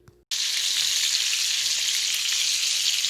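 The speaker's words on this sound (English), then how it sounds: "hopefully you can hear me over the sizzling" Steady, loud sizzling of food frying in a pan, starting abruptly after a brief quiet moment and hissing evenly throughout.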